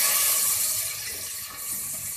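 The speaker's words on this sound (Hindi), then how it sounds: "इसके अंदर अब हम ये जो सारे मसाले थे ये इसमें मिक्स करेंगे अपने पानी में, ताकि ये अच्छे से भून जाए" Water is poured into a pan of spices while cooking chana pulao, a steady hissing splash and trickle that continues softly for a couple of seconds with no talking.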